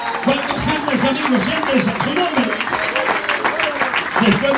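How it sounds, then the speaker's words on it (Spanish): A church congregation claps in sustained applause during a service, steady and moderately loud, while someone speaks over it through an amplified voice. "Denle fuerza de palmas a Dios por los amigos."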